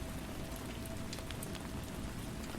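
Steady rain falls on a surface as an even, dense hiss with scattered droplet ticks, moderately quiet and unbroken, with no voices.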